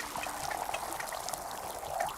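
Liquid pours in the video game Wanderstop, a soft continuous trickling stream at low level.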